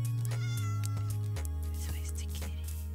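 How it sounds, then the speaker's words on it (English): A cat meows faintly and briefly in Minecraft Java Edition 1.14, set over sustained, steady in-game music tones. "There's the kitty. So cute."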